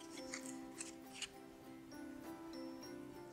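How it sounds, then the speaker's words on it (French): Scissors snipping paper to make a wolf half-mask: a few faint, crisp clicks and snips, spaced irregularly, over a quiet steady room hum. "vais faire un trait de ciseau d'à peu près 1 cm"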